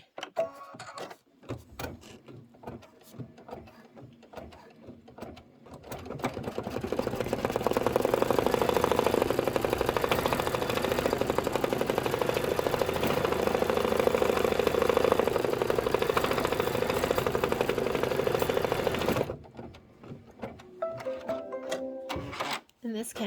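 An embroidery sewing machine stitches a placement line for a snow design, a steady close mechanical whir with rapid needle chatter that runs for about thirteen seconds. Handling noises and talk come before and after it.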